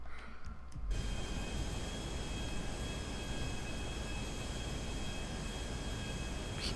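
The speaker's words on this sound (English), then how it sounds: "Even on a jet at full speed, it takes a while." A jet flying at full speed in Grand Theft Auto V, a loud, steady roaring engine drone that swells in after a quiet first second and holds constant, with no talk.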